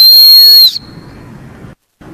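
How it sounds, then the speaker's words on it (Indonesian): One loud, shrill blast from a whistle built into a camping shovel sounds close by for under a second, then gives way to faint rustling. "Nah ini sekarang kita coba untuk fungsi peluit rekan-rekan ya."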